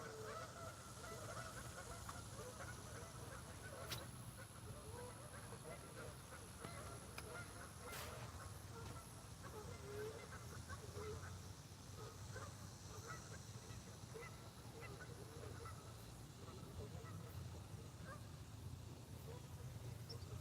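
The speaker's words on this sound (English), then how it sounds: "Sounds like a lot of geese." Faint, continuous honking of many geese in the distance, overlapping calls over a low constant background hum.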